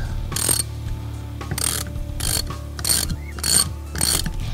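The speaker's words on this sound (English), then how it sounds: "we're going to ratchet it until it's fairly snug." A ratchet tightens a quiver mount in bursts of rapid close clicking, five or six short runs of pawl clicks spaced by brief pauses over a low steady mechanical hum.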